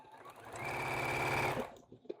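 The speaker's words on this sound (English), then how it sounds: "I'm going to start with a back stitch." A sewing machine runs a short back stitch through flannel scarf fabric, a close, steady fast mechanical whir lasting about a second, then stopping, followed by a small click.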